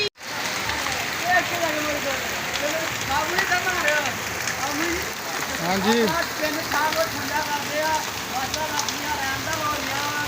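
Steady outdoor rain hisses evenly throughout, close and fairly loud, and a voice speaks briefly over it.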